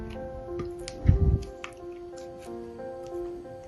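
Mango mousse mixture being folded together with cream for a no-bake, gelatin-free dessert, giving a soft squishy burst of wet mixing near the middle, close and fairly quiet, with faint clicks around it.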